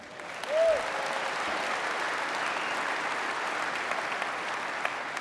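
Convention audience at a 2015 NRA-ILA leadership forum breaks into sustained applause, a broad, even roar of clapping from a large hall that holds steady for several seconds after a brief vocal sound at the start.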